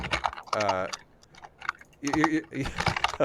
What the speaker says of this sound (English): I just hear your keyboard getting slammed right now.